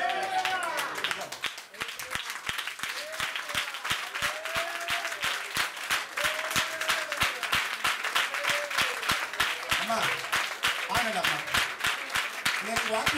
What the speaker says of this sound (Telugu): నమ్మిన చప్పట్లు కావాలి